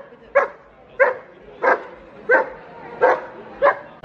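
A dog barks six times in a steady, evenly spaced series, each bark short and yelping, fairly close and loud against a quiet background, with no voices over it.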